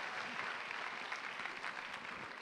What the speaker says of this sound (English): why don't you give her a better clap offering?